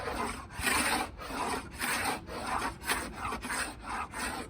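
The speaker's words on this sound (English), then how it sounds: "I've just sanded this down, and let's see how easy this goes" Rhythmic rasping strokes of a scraper stripping a sanded wooden surface, close and steady, with about eight quick passes in a regular pattern and brief gaps between them.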